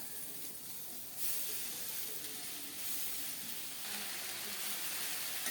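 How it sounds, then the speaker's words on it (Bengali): Chopped coriander leaves frying in a pan with chilli, garlic and salt, giving a soft, continuous sizzling hiss that swells slightly partway through, with no talk. "নেড়ে চেড়ে ধনে পাতাটাকে একটু ভেজে নেব"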